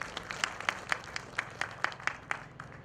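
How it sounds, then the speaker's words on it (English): Audience at the 25th EAC MSME trade fair, Burundi Day, clapping in a steady rhythmic beat, crisp claps repeating roughly every quarter second at moderate volume, with no talking over it. "So we clap for those who initiated it and the East African Secretariat for mobilizing us."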